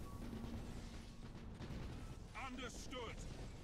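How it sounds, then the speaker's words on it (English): Torpedoes launch from a warship in the space strategy game Battlefleet Gothic: Armada, a low rumbling boom under constant battle noise, with a synthetic voice speaking briefly. "Fire torpedoes."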